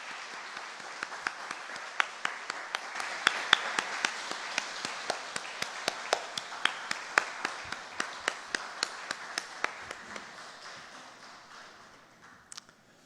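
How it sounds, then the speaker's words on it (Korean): A church congregation at an early morning prayer service claps in a steady rhythmic beat, sharp regular claps at an even pace over a softer bed of applause that fades out toward the end. "박수를 올려드리겠습니다."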